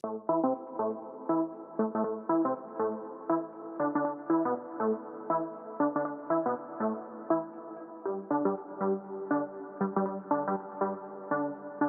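A rich synth lead with chordal harmonics plays a busy rhythmic melody, notes pulsing steadily and loudly with no voices.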